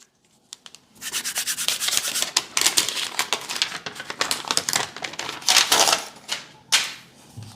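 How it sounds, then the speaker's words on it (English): Plastic wrapper crinkles and rips off a new OnePlus 12 phone, a close, busy run of dry rustling and scratchy tearing bursts over several seconds, with no talk. "Take off the wrapper."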